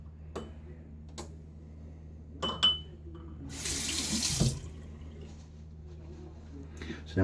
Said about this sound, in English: I think I need to add just a little bit more water.